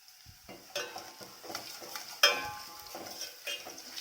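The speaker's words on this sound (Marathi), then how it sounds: "लसूण आणि जिरे कढीपत्ता तेलात चांगला भाजला" Garlic, cumin and curry leaves frying in oil in a pan, with a soft sizzle broken by several clinks and scrapes of a spoon stirring against the metal, fairly quiet and with no talking.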